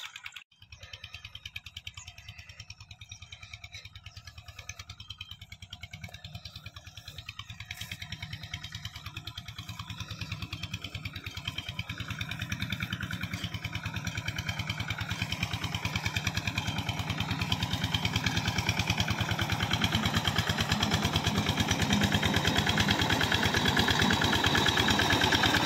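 A tractor engine runs on a corn farm, a steady low mechanical drone that grows gradually louder and closer as it keeps going.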